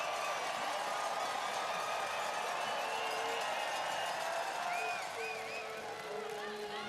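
A home crowd cheers and applauds at a biathlon pursuit race in Ostersund, Sweden, a dense, steady roar of voices and clapping heard from a distance, with a commentator talking over it.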